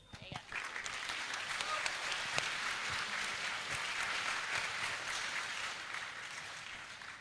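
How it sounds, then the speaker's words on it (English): Sustained, dense applause from a crowd at a robotics competition awards ceremony at nationals, steady and fairly loud for about seven seconds with a murmur of voices mixed in. "You should give yourselves a round of applause."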